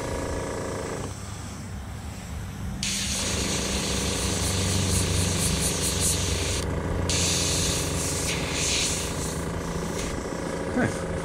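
An airbrush blasts air to clear clogs from its nozzle, a steady close hiss that keeps running with a few breaks in pitch, and someone talks over it.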